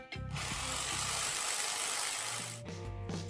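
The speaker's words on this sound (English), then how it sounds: "That's just drills and hammers." Power drills whine loudly and steadily at a construction site next door where apartments are being built, a continuous broadband roar filling nearly the whole span, with a brief clunk near the end.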